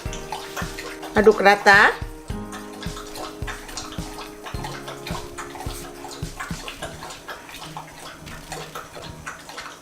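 Hot water pours for a cassava coconut milk cake, a brief loud splash followed by steady gurgling and stirring under a woman's spoken instructions.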